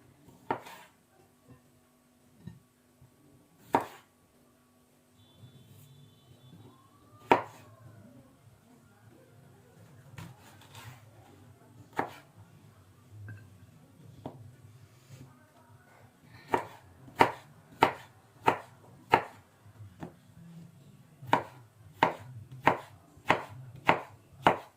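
A knife chops cucumbers for a salad on a board, sparse single cuts at first and then a quick, regular run of crisp chops close up, with a voice talking in between.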